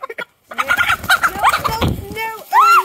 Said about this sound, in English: We're going to put this one up in the chicken house